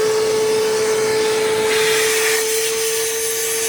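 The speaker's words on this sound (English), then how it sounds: "Turned on the vacuum." A vacuum whines loudly and steadily with a strong tonal hum, its airflow shifting slightly as it sucks at a clogged AC drain tube on a 2001-2006 Mitsubishi Montero.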